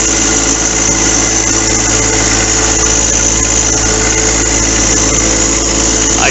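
A new John Deere 4x4 tractor's diesel engine running steadily at close range, a loud, constant low rumble and vibration throughout with no change in pace.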